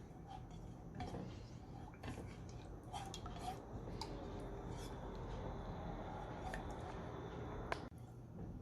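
A utensil stirring milk and sugar in a pan, with light scraping and clinking against the metal in an irregular rhythm, close and quiet, plus occasional sharper taps.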